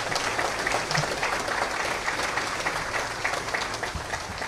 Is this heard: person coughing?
no